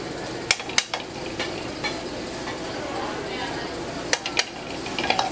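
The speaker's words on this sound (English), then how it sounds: "I'll put a little more garlic." Garlic goes into a hot pan and is stirred, giving a steady close sizzle with sharp clinks of utensil on pan at intervals; a voice speaks briefly over it.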